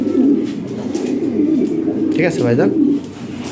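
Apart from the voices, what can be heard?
European Lahore Shirazi pigeons cooing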